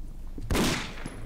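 A single loud pistol shot bursts out in the video game Condemned: Criminal Origins, then decays briefly over a low ambient background. There is no talk.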